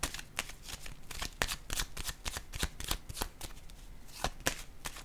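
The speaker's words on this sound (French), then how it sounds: "Je vais déposer maintenant une autre carte ici." Playing cards are shuffled and laid down close by, a quick run of crisp riffling flicks and soft slaps at a steady pace, faint and without talk.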